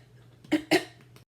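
Two quick throat-clearing coughs from a congested person close to the microphone, followed by a faint breath over a low steady hum.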